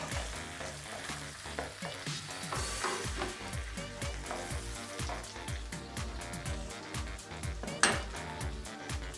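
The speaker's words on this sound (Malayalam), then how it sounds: "അപ്പോൾ അതേപോലെ വെളുത്തുള്ളിയൊക്കെ ഒന്ന് കളർ മാറി വരുമ്പോൾ നമുക്കതിലോട്ട് ഉള്ളി ഇട്ട് കൊടുക്കാം" Garlic and sliced onion frying in a pan for veg noodles, a continuous crackling sizzle with frequent rapid clinks and scrapes of a utensil stirring against metal, close and busy.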